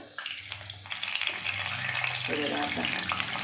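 Medu vada batter rings dropped into hot oil give a growing, steady sizzle and bubbling. The frying builds in loudness through the clip, with faint background noise and no clear talk.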